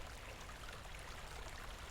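A waterfall in the horror video game The Beast Inside gives a steady, faint, even rush of falling water with no change in level and no talking.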